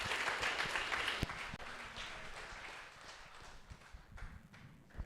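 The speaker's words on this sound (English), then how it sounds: "let's give a big round of applause for Caleb." Applause from an Astronomy on Tap audience in San Antonio, Texas, loudest at the start and then thinning to scattered claps over about five seconds. The clapping sounds moderately close, with no talk over it.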